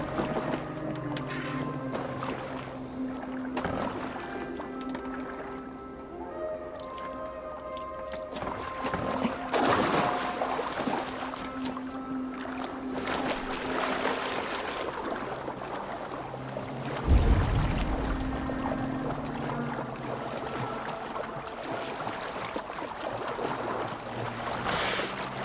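A rowing boat moves across the water in the video game Assassin's Creed Valhalla, with steady splashing and creaking under wind and ambient game music.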